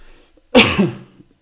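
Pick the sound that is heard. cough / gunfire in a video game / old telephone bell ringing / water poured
cough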